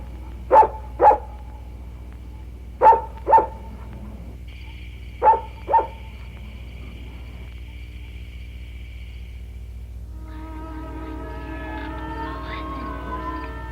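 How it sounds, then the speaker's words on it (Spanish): A dog barks in three quick pairs of sharp barks, loud and close, followed by quieter tonal sounds and faint music-like tones. "¡Calla! ¡Maldito perro, calla!"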